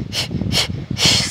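A Pilates instructor on a beach breathes out forcefully three times, each a close, breathy hiss or snort separated by short quiet gaps.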